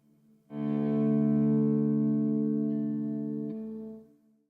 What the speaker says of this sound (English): So this is the sound that I've got out the MX5.